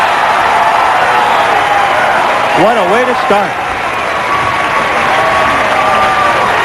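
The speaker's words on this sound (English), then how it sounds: "This crowd is going crazy." A crowd at a 1995 bowling tournament cheers and applauds loudly and steadily throughout, a broad roar of claps and shouts, while a commentator talks over it.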